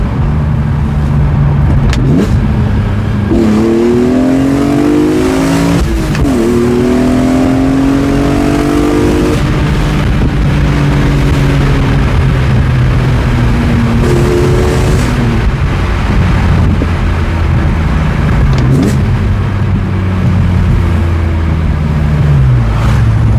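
A BMW E46 M3 engine with a Valvetronic exhaust, valve closed, revving loudly and continuously, pitch climbing and dropping through several gear shifts, a deep muffled exhaust tone throughout.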